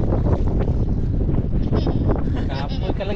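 Strong gusting wind buffets the microphone outdoors, a loud continuous rush with faint splashy texture, while people talk over it.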